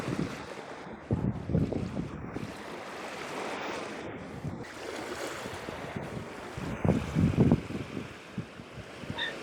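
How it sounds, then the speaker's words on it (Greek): Choppy sea waves at a beach wash and break over steady wind, with gusts buffeting the microphone and louder surges of surf rising and falling. "Η θάλασσα είναι λίγο κυματώδης."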